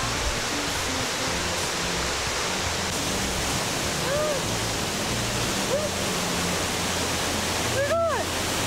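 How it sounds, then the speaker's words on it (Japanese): Steady, roaring rush of a waterfall fills the air, broad and constant, with faint bird chirps briefly cutting through. "滝の音が聞こえてきてる"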